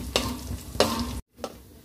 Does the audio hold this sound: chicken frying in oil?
yes